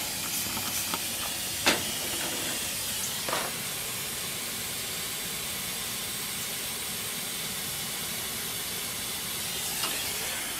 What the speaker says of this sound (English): Let the nitrogen bleed off